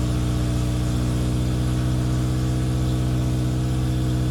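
A Morris Minor engine running steadily at idle with a slight exhaust manifold blow, producing a constant low rhythmic chuffing drone close by with no change in pace.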